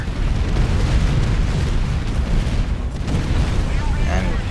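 Units in a strategy video game force-fire into the fog, producing dense, rumbling booms and bursts that layer into a continuous loud roar of battle.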